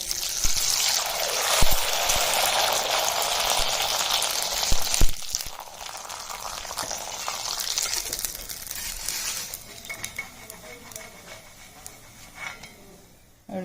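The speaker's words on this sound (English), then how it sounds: "I will fry the papad and show." Rice papad frying in hot oil, giving off a loud, steady bubbling hiss and crackle that runs close-up for most of the stretch before settling quieter toward the end.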